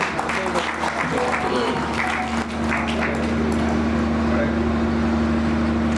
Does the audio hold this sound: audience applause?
yes